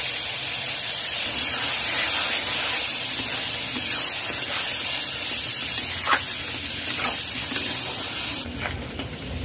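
Spinach paste hitting a hot pan on a stove, giving a steady hiss and sizzle throughout, fairly loud and close, with a few brief louder crackles near the end.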